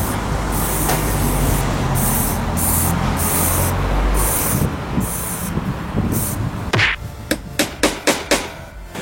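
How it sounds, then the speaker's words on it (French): Brown spray paint hisses from an aerosol can onto the base of a CD rack, a steady spray for several seconds, followed by a run of short, sharp knocking taps near the end. "j'ai peint le pied du range CD avec une bombe de peinture de couleur marron"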